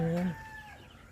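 A single short cluck from a brooding hen, close and clear, then a quieter tail of faint background noise.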